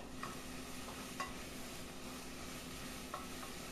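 Rice frying on medium heat in a pan with onion, garlic, bell pepper and tomato, giving a soft, steady sizzle with a few light stirring scrapes and clinks.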